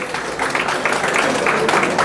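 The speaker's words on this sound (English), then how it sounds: "please give him a very big clap" An audience claps for Uncle Steve at an Institute for Islamic Services heritage program about Marabastad, a steady wash of applause lasting the whole moment with faint voices mixed in.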